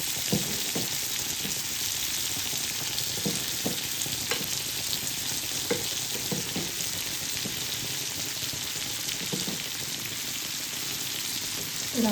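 Rawas fish fillets sizzling steadily in a hot pan, turned over partway, with a continuous bright crackle of oil and a few soft clicks from the turning, close and alone without talk.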